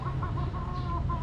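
Chickens on a Filipino gamefowl farm cluck in short repeated calls, several close clucks in quick succession over a low rumbling background, no one talking.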